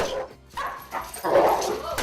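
A dog barking aggressively in a park, sharp yips and barks mixed with whimpers, close and loud while people talk over it.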